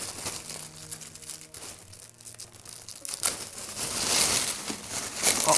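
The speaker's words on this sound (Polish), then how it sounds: "O, jest taka folia, która się troszeczkę sama klei." Self-adhesive plastic foil crinkles and crackles as it is peeled away while a package holding a SEGA Mega Drive controller is unpacked, growing louder and busier toward the end over faint background music.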